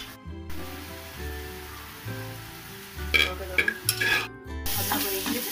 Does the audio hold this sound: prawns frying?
yes